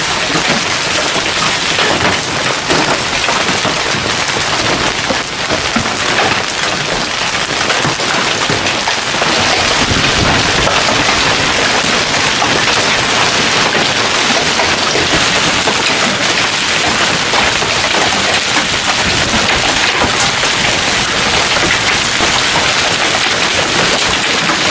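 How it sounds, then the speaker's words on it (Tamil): A dense, unbroken roar of hail pelting down, loud and close, a constant hissing clatter with scattered sharper impacts that never lets up. "இப்படி ஒரு ஆலங்கட்டி மலையை உங்க வாழ்க்கையிலேயே இதுவரைக்கும் பார்த்திருக்க வாய்ப்பே இல்லை."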